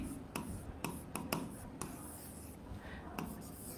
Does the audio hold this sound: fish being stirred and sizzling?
no